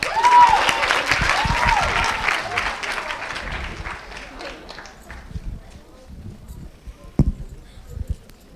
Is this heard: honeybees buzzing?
no